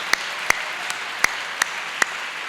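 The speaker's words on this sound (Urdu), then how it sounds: "آئے ہم اپنے یہوہ خدا کے لیے زوردار تالیاں بجائیں" A church congregation claps loudly in praise of God at a Pentecostal service, a few sharp, evenly spaced claps standing out over a soft background wash of applause.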